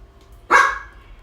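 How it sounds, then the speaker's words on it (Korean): A single sharp bark from a pet dog indoors, loud and close, standing alone in a quiet room. "저희 집 강아지예요."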